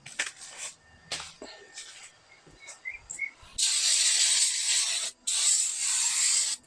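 Brake cleaner sprayed from an aerosol can onto brake drums from a '71 Toyota Celica TA22, two long, loud, close hissing bursts with a short break between them, following some faint handling noises.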